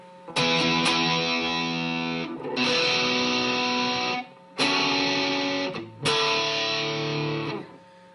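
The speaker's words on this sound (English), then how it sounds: "the distortion tones, without any effect, gets a little bit noisy" Loud, heavily distorted electric guitar playing sustained chords in several long bursts separated by brief gaps, with a buzzy, saturated tone.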